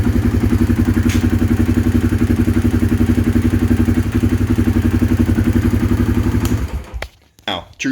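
A Honda motorcycle engine running close by with a loud, steady rapid chugging rhythm that cuts off near the end, followed by a few faint clunks.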